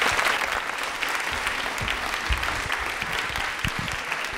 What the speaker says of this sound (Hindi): चलिए तालियां हो जाए फिर वाली।